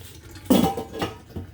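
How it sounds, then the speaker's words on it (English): A metal lid clanks down onto a cooking pot of jollof rice, one sharp clatter followed by two lighter rattles as it settles, close and clear with no talking. "So I'm going to cover my pot."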